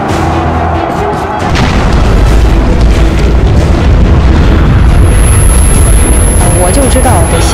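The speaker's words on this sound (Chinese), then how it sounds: "我猜就炸弹了。" A loud bomb explosion in the video game Metro Last Light sets off a sustained, roaring blast and rumble that fills the whole stretch. A player speaks over it.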